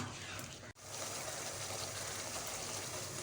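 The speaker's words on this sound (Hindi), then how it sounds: "थोड़ा सा पानी ऐड करेंगे इसमें।" Water poured into a cooking dal chana mixture, a faint continuous trickling hiss with a brief dip near the start.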